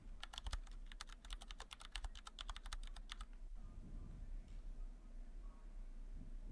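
Fast, light keystrokes on a computer keyboard type a query into a search bar, a quiet burst of clicks that stops midway and leaves only faint room hum.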